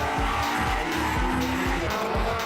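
Japanese cars run on a race track at a French enthusiast event, their engines a loud continuous drone with shifting, overlapping tones as several pass.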